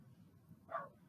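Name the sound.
dog barking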